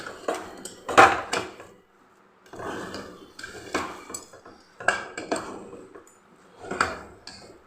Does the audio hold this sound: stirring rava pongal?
yes